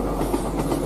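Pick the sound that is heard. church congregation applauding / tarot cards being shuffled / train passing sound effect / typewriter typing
train passing sound effect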